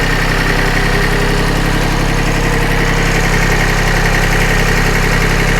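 Small Iseki tractor engine running steadily, a loud, close, continuous idling chug with a knocking vibration throughout and no pauses.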